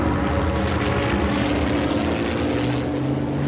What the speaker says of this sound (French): Il est passé à basse altitude au-dessus du terrain d'aviation